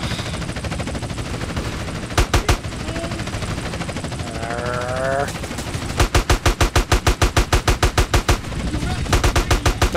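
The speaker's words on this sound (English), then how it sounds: "Here, meet my AK-47." AK-47 gunfire in Grand Theft Auto: San Andreas crackles in short bursts of rapid shots, a brief burst early and a long sustained volley later, loud over game background noise.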